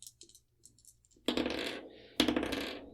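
Virtual dice clattering in an online co-op Ironsworn tabletop RPG session: light clicks, then two bright rattling rolls in quick succession, each ringing out briefly, with no talking over them.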